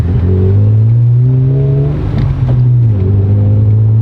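A supercharged Honda NSX engine revs roughly while misfiring, a loud, close, steady drone that rises in pitch, dips briefly and climbs again, with no talk over it.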